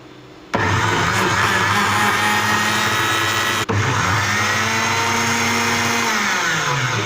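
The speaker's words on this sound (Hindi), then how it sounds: "अभी इसमें जूसर मशीन को ऑन करता हूँ ताकि अच्छे से जो है सारा मिक्सचर इसमें मिक्स हो जाए।" A juicer blender machine whirs as it mixes pina colada with milk cream, switching on abruptly with a loud, steady motor whine that holds throughout, briefly dipping once midway before resuming, with no talking.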